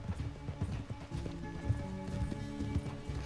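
A horse gallops during a race in Red Dead Redemption 2, hooves pounding in a quick, rhythmic clip-clop, fairly close and steady, with light game ambience underneath and no talking.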